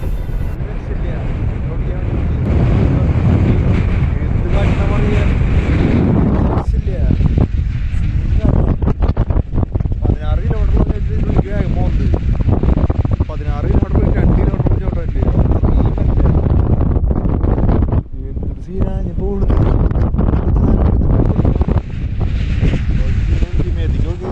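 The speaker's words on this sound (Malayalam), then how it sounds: "കാറ്റ് കൂടുതൽ കാരണം ഗോപ്രോയിൽ കേൾക്കുന്ന പോലും അറിയില്ല" Heavy wind buffets a GoPro action camera microphone in loud, continuous low rumbling gusts, with a voice speaking underneath that is partly drowned out.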